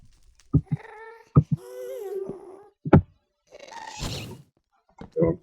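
A ghast in the Minecraft video game lets out several eerie wailing cries alongside brief thumping sounds, alternating with short silences, fairly close and clear.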